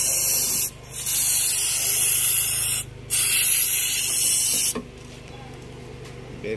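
Silicone spray lubricant applied to a Honda City car's power window channel: three strong aerosol hisses with short gaps between, close and loud, ending in a quieter background hum.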